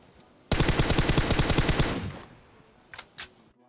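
A rapid burst of automatic gunfire rattles for about a second and a half, followed by a couple of softer sounds, with no talking, in the video game PUBG Mobile.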